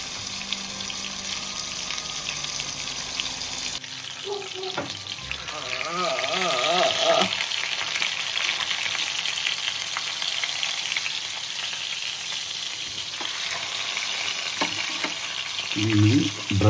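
Fish sprinkled with turmeric dropped into hot oil and frying in an outdoor village kitchen, a continuous crackling sizzle that swells after the drop, with occasional bubbling and stirring clatter, close by.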